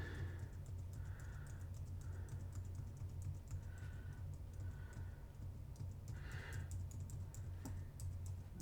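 Keys clatter on a computer keyboard while code is being deleted, with steady clicks and short bursts of repeated key presses over a constant low hum.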